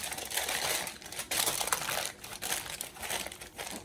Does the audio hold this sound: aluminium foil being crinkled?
yes